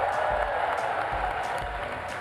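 A large crowd at the Pokémon GO World Championships cheering in a broad, steady roar that fills the hall, continuous and moderately loud, with a few scattered claps and shouts inside it.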